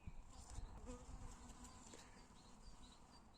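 Bees buzz around an Asian hornet bait trap, a faint, steady droning hum with a few individual insects passing close, set against quiet outdoor background.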